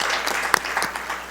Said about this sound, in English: Give them another round of applause for coming here to visit us today.